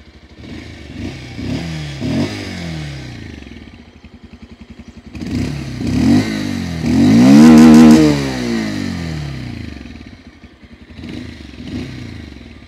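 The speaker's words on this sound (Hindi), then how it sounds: "पल्सर 150 का एग्जॉस्ट नोट लोगों को बहुत पसंद है" A 2024 Bajaj Pulsar 150 motorcycle engine idles with a throaty exhaust, then revs up in several rising and falling surges, loud and close, before dropping back to idle.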